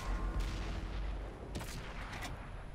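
Gunfire and cannon booms in a tank battle video game, a steady run of blasts with a sharper burst of shots near the end, loud and close.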